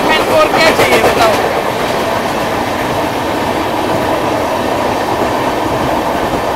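Two trains race side by side at high speed, a loud continuous roar of rushing wheels and rail rumble with rhythmic clickety-clack early on, the noise easing slightly as it continues.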